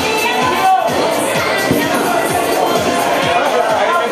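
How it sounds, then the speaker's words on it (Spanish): Outdoor crowd at a New Year's Eve San Silvestre race award ceremony in Cadreita, Spain, clapping and cheering for the winning men's group team, with voices and shouts mixed into the steady applause. "Un fuerte aplauso para los primeros."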